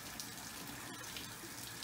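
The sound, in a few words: fresh water being emptied out from a ram pump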